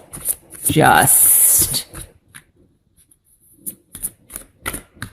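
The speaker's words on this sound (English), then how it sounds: "let's cut the cards here" A deck of tarot cards is shuffled and cut in one loud, riffling rush lasting about a second, followed by a few soft card taps, with a voice talking before and after.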